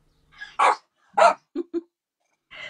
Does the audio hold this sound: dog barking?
yes